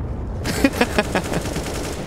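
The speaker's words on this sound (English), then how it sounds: "Why was he shooting the wall?" Rapid automatic gunfire in CS:GO at a professional match, IEM Cologne 2023, sprayed into a wall. A loud, dense burst of rattling shots with sharp individual cracks runs throughout.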